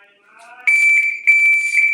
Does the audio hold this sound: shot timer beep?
yes